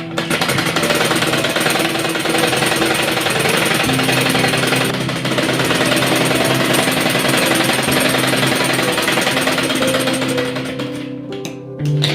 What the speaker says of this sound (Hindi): यहाँ से एक सिलाई लगा लेंगे